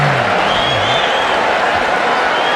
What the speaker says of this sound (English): And crowd is in a roar.